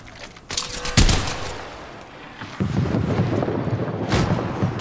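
Gunfire and explosive blasts in the Apex Legends Mobile video game, a loud close burst of shots followed by a rumbling barrage of fire and a sharp crack near the end.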